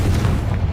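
A Confringo fire spell in Hogwarts Legacy lands as a loud, rumbling boom, a dense low-heavy blast that stays sustained across its brief length with no voices over it.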